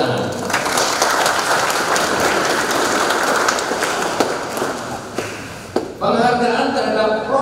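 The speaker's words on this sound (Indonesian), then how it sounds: "Tepuk tangan." Dense, steady audience applause fills a council plenary session of the Kota Batu regional parliament (DPRD), holding for about six seconds before thinning into a different mix of room noise and voices.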